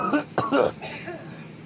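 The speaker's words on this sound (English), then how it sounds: "We can then turn and cough roughly, then slowly scratch our nose." A rough, harsh cough bursts out twice in quick succession, close and fairly loud, followed by a softer throaty rasp.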